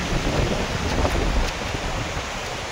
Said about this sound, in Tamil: நல்லா காற்றடிக்குதுங்க